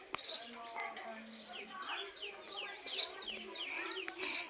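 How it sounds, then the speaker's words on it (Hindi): Small birds chirp and twitter around a home in rural Uttarakhand, with short repeated calls and a few sharper tweets scattered across the moment, moderately close and fairly soft under light background noise. "कितना प्यारा लग रहा है ना चिड़िया की चहचहाट।"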